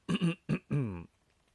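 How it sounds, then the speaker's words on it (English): A few harsh throat-clearing coughs come close together, loud and near, then quiet. "excuse my coughing here"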